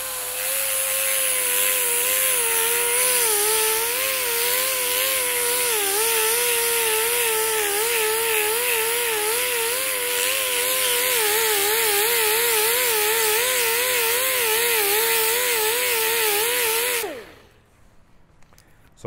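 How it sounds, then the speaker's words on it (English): An abrasive disc grinder sanding and blending a weld seam on sheet metal, giving a loud, steady, high whine for about seventeen seconds before it winds down and stops near the end. "I'll switch to the next disc and we'll keep blending it"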